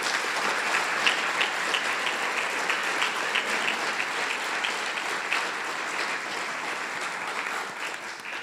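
An audience at a national finals event applauds steadily, dense even clapping from a large crowd sustained throughout and fading slightly at the end.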